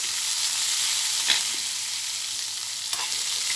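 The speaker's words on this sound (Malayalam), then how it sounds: "നല്ലതുപോലെ വാട്ടി വാട്ടിയെടുക്കണം അധികം അങ്ങ് വെന്ത് പോകരുത്" Vegetables sautéing in a pan with salt while making rava upma, a steady close sizzle and hiss of frying throughout with a couple of faint stirring clicks, no voices.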